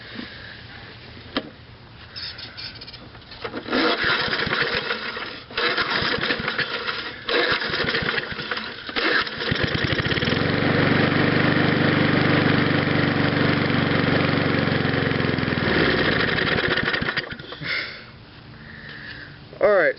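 A 15-year-old Snapper Hi-Vac lawn mower engine cold-starting: sputtering pulls and cranking give way to a steady droning run near the middle, then it falters and dies, with sniffing and brief talk around it.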